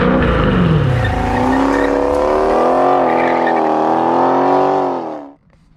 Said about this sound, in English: the 2021 White Knuckle Scat Pack Challenger